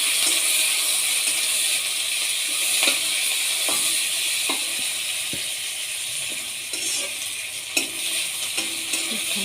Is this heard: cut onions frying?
yes